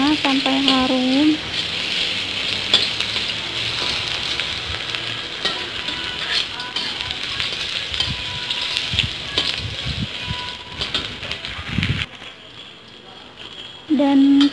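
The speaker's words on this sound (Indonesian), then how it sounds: "Kita tumis jahenya sampai harum." Ginger stir-fries in a hot pan with steady, close sizzling and occasional scraping stirs, while a voice talks briefly at the start and again at the end.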